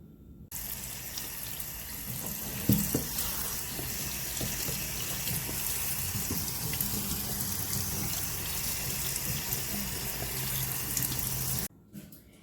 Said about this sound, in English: I'll be rinsing it under cold water